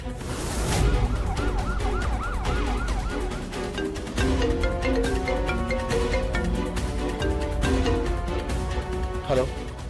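An ambulance siren wails loudly and continuously in a rising-and-falling pattern, close by, with other street sounds mixed in beneath it.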